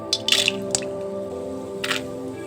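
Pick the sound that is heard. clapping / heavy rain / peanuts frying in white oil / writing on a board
peanuts frying in white oil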